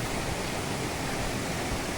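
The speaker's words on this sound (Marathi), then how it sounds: "मुख्य धबधब्याकडे जाता सुंदर असा फेसाळणारा पाणी वाहत हा" Foaming monsoon water rushing along a stream toward the main Manche waterfall in Devgad, a steady, dense roar of flowing water throughout.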